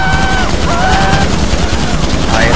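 Rapid automatic gunfire in GTA V Online on PS4, loud and continuous bursts of shots filling the whole stretch, with faint in-game tones and a little speech mixed beneath.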